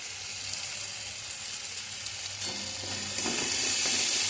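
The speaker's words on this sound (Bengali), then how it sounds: "দেখো মশলাটা কত সুন্দর কষা হয়ে গেছে।" Spice masala with tomato for Bengali chana dal fries in a pan while being stirred, a soft continuous sizzle with scraping stirs that grows louder and brighter near the end, no voices present.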